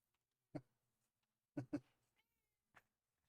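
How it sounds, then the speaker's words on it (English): Indoor house cat meowing: four short, faint meows spaced irregularly over a quiet, silent background. "Happy kitty. Meow. Meow."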